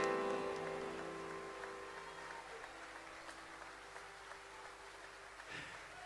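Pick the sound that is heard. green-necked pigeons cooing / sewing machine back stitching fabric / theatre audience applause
theatre audience applause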